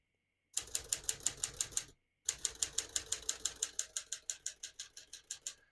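Typing on a 1957 Smith-Corona Silent-Super portable typewriter: a close run of rapid, regular key strikes in two bursts separated by a short pause, each bright crisp clack ringing clearly, with no voices.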